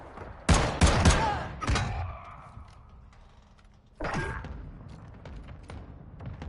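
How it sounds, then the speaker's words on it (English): Mortar strike explosions go off in the Modern Warfare 2 video game: a cluster of loud, sharp blasts with a rumbling tail, a quieter stretch, then another heavy burst that fades out. "Hostile mortar strike incoming."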